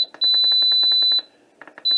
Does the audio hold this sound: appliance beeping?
yes